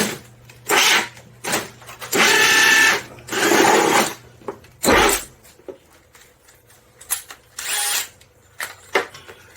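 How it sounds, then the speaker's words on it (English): A power drill whirs into plastic in several short bursts separated by pauses, close by, with a few clicks and handling noises between runs. "Shouldn't even need to drill a pilot hole with this."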